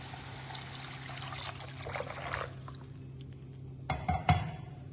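Water pouring into a cooking pan for semiya kitchadi, a steady trickle and splash with a brief clink of the vessel near the end, close and moderately loud.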